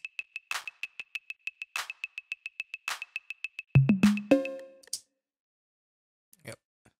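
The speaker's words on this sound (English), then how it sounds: "the 808 kit that you listen in the background sounds like this" An 808 drum kit with crash and hi-hat cymbals in an electronic pop remake: a steady run of crisp ticking hats with periodic cymbal splashes, then booming 808 kick and tom hits near the end, closing with a few faint ticks.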